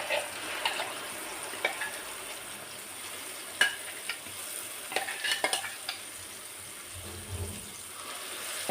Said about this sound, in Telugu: ఇప్పుడు మనం మిక్సీ పట్టుకున్న టమాటా చట్నీ ఇందులో వేసుకోవాలి